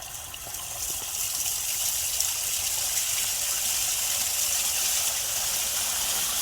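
Water gushes steadily from a pump outlet into a field plot as the pressure is raised: a loud, continuous broadband rush with no talking.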